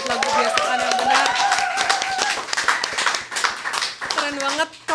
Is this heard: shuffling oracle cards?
no